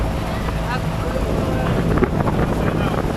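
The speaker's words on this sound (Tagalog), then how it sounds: "Mahangin na mga kasambahay." Strong wind buffets the microphone in a steady, heavy low rumble throughout, with faint indistinct voices and a hint of boat engine underneath.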